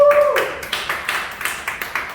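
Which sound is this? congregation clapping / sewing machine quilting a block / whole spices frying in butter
congregation clapping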